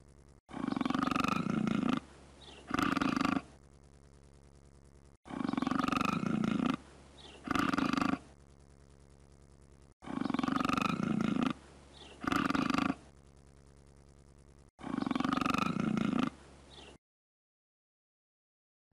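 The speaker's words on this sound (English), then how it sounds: "Cougar." A cougar roars in four repeated bouts, each a long, loud, rasping roar followed by a shorter second burst, with gaps of silence between them and no talk.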